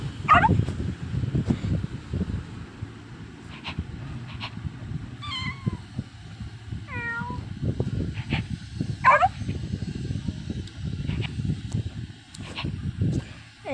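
Cats meow and dogs yap in short scattered calls inside the Toca World video game, several separate cries spread over the stretch above a murmuring background.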